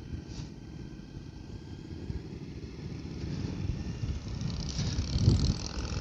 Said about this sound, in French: on sent le bicylindre qui demande qu'à s'exprimer